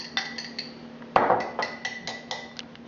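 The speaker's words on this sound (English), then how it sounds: "with a fork, I'm going to just whisk that together" A fork whisks a thick granola mixture in a bowl, giving a quick, irregular run of close metallic clinks and taps against the bowl, with one louder scraping stroke partway through and no talking.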